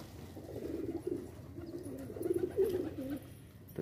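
A pet pigeon coos on a rooftop in soft, low, repeated bursts, close by, with no voices.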